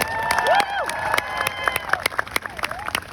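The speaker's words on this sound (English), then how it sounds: "Please give yourselves a round of applause." A graduation crowd cheers and whoops with scattered clapping, shrill shouts rising and falling over a busy, lively background.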